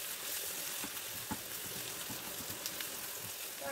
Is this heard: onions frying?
yes